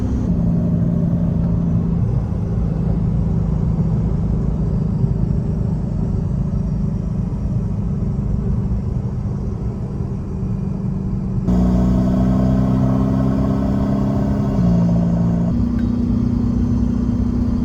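A Volkswagen Jetta TDI diesel drives along with a steady engine drone and road rumble heard from inside the cabin, the pitch stepping up as it shifts and accelerates.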